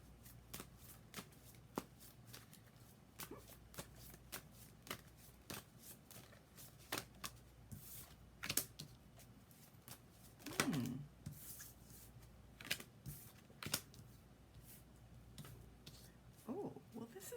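Tarot cards are shuffled over and over during a collective reading, a long run of crisp, rapid riffles and soft slaps, close but quiet, with brief murmuring in places.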